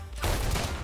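A sudden burst of rapid gunfire in the video game Rounds, loud and dense, filling the brief moment after a quiet start.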